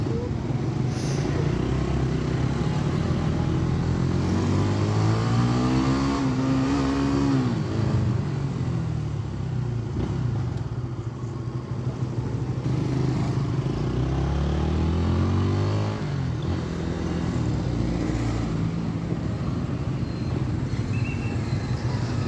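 A motorcycle fitted with a silencer rides along, its muffled engine droning steadily with gear shifts and rising revs, wind and road noise throughout, heard close from the rider's position.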